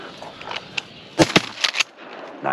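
Shotgun blasts while duck hunting on a foggy opening day in Wisconsin, a few sharp, close reports in quick succession with quieter rustling between them outdoors.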